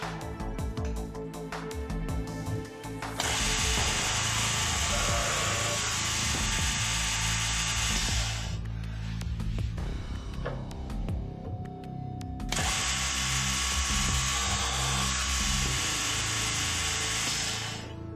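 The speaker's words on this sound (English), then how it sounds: "The procedure is to bore at one end of the panel, then in the middle for the fixed shelf, then turn the panel and bore the other end." A Gannomat DB 21 dowel drilling machine boring a wooden panel whirs loudly in two long, steady bursts of several seconds each, with clunks and mechanical handling noise in the gap between them.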